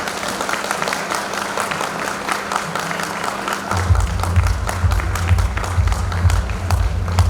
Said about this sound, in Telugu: క్లాప్స్ చప్పట్లతో సన్మానం